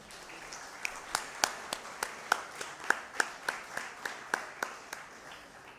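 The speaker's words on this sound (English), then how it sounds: "I just want to give you a round of applause right now myself, and I hope you'll join me." A few people at a business association installation ceremony clap sparsely in a slow, irregular rhythm, roughly a dozen distinct claps ringing out fairly close and moderately loud, with no talking over them.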